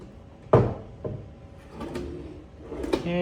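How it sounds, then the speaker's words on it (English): Drawers in a hotel guest room at Courtyard Penang being pulled open and pushed shut, giving one sharp close-up knock followed by softer wooden slides and bumps, with a faint steady hum in the background. "here we just have some drawers to put items in"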